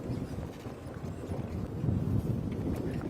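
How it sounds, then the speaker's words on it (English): Strong wind buffets the microphone in a steady, rumbling roar on a cold morning safari game drive, loud and continuous with gusts swelling toward the end, no talk. "And it is very windy and very cold"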